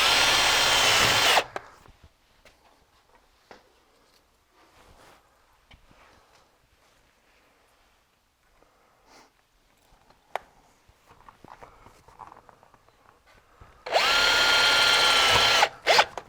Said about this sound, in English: I'm going to put some more screws in to finish this out